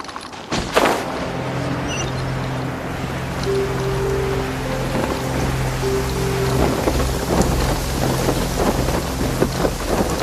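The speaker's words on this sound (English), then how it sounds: "Demons do not stop for the rain." Heavy rain with rolling thunder during a storm in the Genshin Impact video game, a dense steady downpour with a loud thunderclap near the start and low rumbles beneath a sustained hum.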